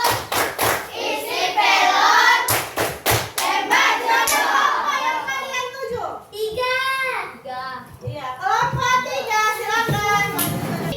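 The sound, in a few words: children clapping hands in a clapping game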